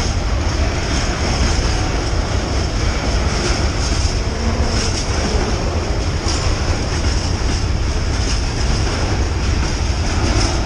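A train rumbles past close by, a loud continuous roar with rattling wheels on the rails and no voices.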